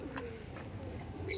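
Pigeons coo softly with a low, continuous burble from older tournament-flying birds in a home loft, steady and close amid faint background noise.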